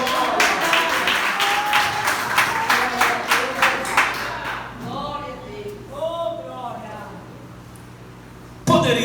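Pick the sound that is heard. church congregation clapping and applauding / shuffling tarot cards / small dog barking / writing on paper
church congregation clapping and applauding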